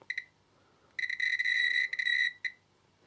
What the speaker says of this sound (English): if the multimeter beeps like this, that means it's getting a connection